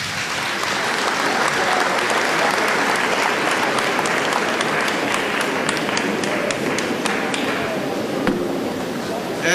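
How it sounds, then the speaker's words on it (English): Sustained applause fills a public memorial tribute to jazz singer Thandi Klaasen, dense steady clapping from a sizeable audience that stays loud throughout, with a few sharper individual claps standing out near the end. "Let's give our minister a big round of applause."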